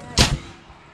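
A single sharp gunshot outdoors on a farm, one loud crack followed by a short fading echo.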